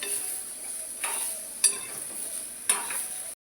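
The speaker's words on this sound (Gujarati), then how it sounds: "હવે એની અંદર આપણે ટામેટા એડ કરી દેવાના છે. એને બી થોડા સાતળી લઈશું." Tomatoes sautéing with softened onions in a pan for misal pav, a soft continuous sizzle close by, broken by a few sharp spoon scrapes and clinks against the pan.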